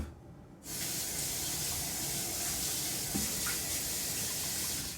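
Onions being rinsed under a running kitchen tap, a steady broadband water hiss that starts abruptly after a brief quiet moment and runs loud and continuous to the end, with no talking.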